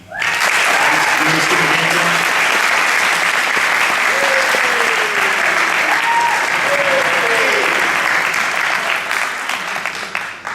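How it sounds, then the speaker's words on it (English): Audience at a princess pageant breaks into sustained, loud applause that holds steady for several seconds before easing slightly at the end, with a voice faintly audible beneath it. "I'd like to give a big round of applause to the chair, Candy Collins, and the co-chair, Amy Queen."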